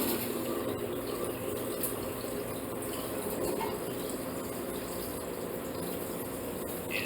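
Water rushes into the tank of a GR2500 grinder in a continuous, even stream, a close and steady splashing hiss that holds level from start to finish.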